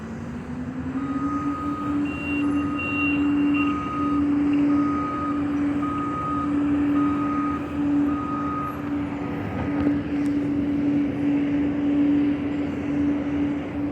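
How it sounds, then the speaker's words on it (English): A big dump truck loaded with asphalt sounds steady reversing beeps during night roadwork, the loud repeating tone riding over a constant engine rumble and broad street noise. "They got a big dump truck with asphalt"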